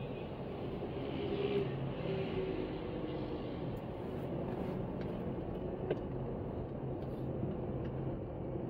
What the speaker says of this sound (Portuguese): É um mar de carro